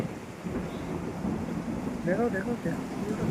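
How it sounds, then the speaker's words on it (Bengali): Heavy night rain in Darjeeling pours steadily as a dense close roar, with a low thunder rumble underneath and a brief voice near the end. "জাস্ট আওয়াজটা শুনে বুঝতে পারছো যে প্রচণ্ড বৃষ্টি হচ্ছে"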